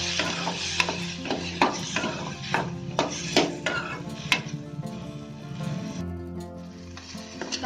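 Chopped tomato tossed into sautéing onions sizzles loudly while a spoon knocks and scrapes the pan in a quick series of sharp clanks, the frying dying down toward the end.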